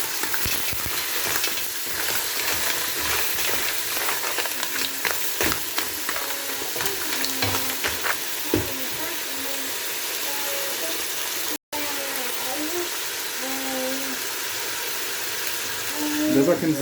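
Mussels, drained after washing, sizzle and fry in a hot pan with stirring, a steady loud crackle running throughout, while people talk over it.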